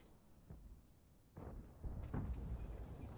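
Gunfire in a tank battle video game: faint, distant cannon shots, with a soft thump early on and two louder, deeper booms later, each trailing into low rumbling over a quiet background.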